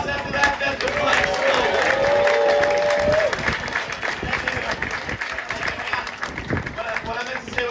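Audience at a Gatorland alligator show applauds with a broad wash of clapping and crowd noise, loud at first and then thinning out as a voice carries over it.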